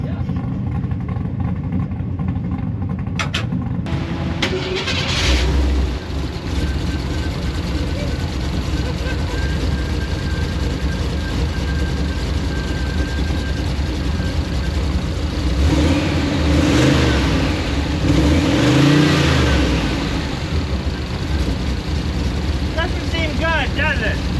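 A car engine runs steadily throughout on a hot day at a Miles of Mayhem event, with a few louder revs late on, while people talk over it nearby.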